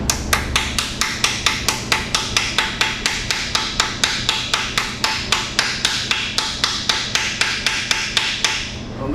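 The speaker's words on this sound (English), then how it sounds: "Use that and hammer it over because it's smaller to make new grooves." A smaller 3/8 socket is hammered down over a rounded bolt head, struck with a steady run of about thirty sharp, evenly spaced metallic blows, loud and close.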